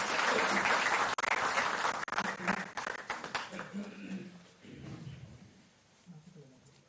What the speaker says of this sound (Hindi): जोरदार तालियों से आप स्वागत करें।